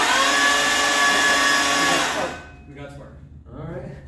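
A Ford 4V V10 engine cranks on its first start attempt, a loud sustained whirring drone that cuts off after about two seconds, followed by brief talking.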